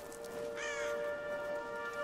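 A bird caws once in the video game Tomb Raider, a single clear call over a quiet, steady game ambience with faint tonal hum.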